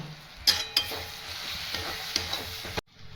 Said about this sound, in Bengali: লঙ্কা আর হলুদ গুঁড়ো দিয়ে একটু নেড়েছি